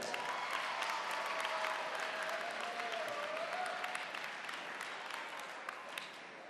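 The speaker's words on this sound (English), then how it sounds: "Go ahead, you can clap for yourself." Graduating high school seniors at a summit event applaud themselves, a broad steady wash of clapping from a large crowd that holds evenly and tapers slightly at the end.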